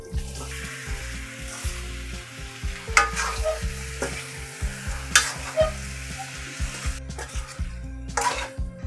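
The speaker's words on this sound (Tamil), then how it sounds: "இதில் அடுத்தது இந்த சிக்கனை சேர்க்குறேன்." Chicken stirred into sizzling masala for a chicken kulambu, repeated scraping and clinking stirs over a constant fry, close and rhythmic, with no voices.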